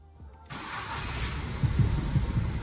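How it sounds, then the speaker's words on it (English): A used car's engine cranks and catches after a faulty earth strap was replaced, then settles into a steady, rough idle with a low rumble close by. "Now the car was running"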